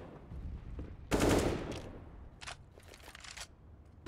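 Automatic P90 fire in Counter-Strike: Global Offensive during a competitive match: a loud burst of rapid shots, followed by a few shorter, fainter bursts and scattered distant gunfire.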